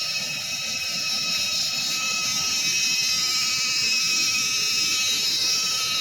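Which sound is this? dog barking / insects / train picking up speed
insects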